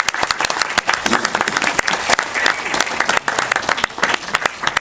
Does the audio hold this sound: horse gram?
no